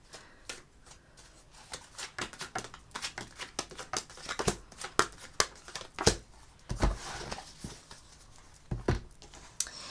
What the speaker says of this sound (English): So let me pull like 2 more cards.